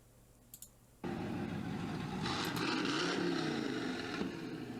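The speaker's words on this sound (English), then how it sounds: "now listen to the 16-cylinder" A large 16-cylinder car engine starts abruptly and holds a loud, smooth, steady roar that rises slightly midway.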